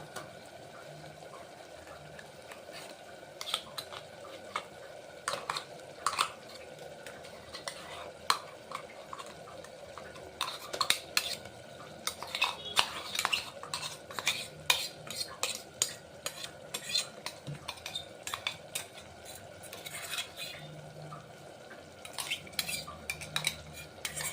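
Masala paste is scraped and stirred around a cooking pan with a spoon, a busy run of metallic clinks and scrapes over a low sizzle, picking up in the middle and continuing to the end.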